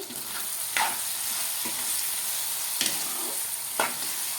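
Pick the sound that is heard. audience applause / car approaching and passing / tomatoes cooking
tomatoes cooking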